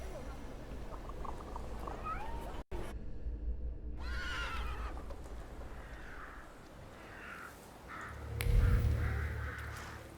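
A horse in the video game The Thaumaturge gives one clear, rising neigh and whinny over background music and ambience.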